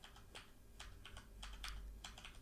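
Number keys on a computer keyboard are pressed while using Blender 2.80 shortcuts, producing quick, light clicky taps in small clusters, faint and close, with a low background hum and no talk.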